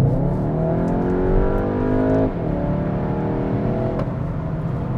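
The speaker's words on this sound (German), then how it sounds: "dann trampeln wir einfach mal so rein beim Rausbeschleunigen auf die Landstraße" A Skoda Octavia RS with the 2.0 TSI petrol engine pulls hard onto a country road, its engine note rising steadily through a gear, briefly dropping at a shift, then climbing again, loud and close inside the cabin.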